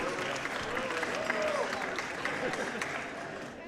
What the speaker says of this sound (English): So let's give a round of applause for Sergio, everyone.